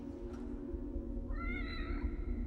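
A cat meows once, short and fairly close, in The Evil Within DLC, rising over a steady low hum of game ambience.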